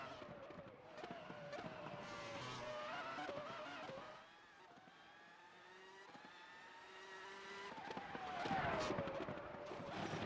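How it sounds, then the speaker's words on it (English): Race car engine whine in a racing video game at Detroit, revving and shifting, with a brief skid and impact against the outside wall, while a commentator talks over it. "And that's another big hit to the outside wall"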